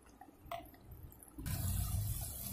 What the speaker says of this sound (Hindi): इसमें हम डालेंगे दूध, इतना दूध डालेंगे ताकि ये अच्छे से मिक्स हो जाए।